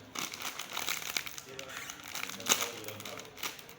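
A crinkly bag of Jaguar nacho chips being opened, with bursts of sharp plastic crinkling and crackling, close and moderately loud, interrupted by a few louder rustles.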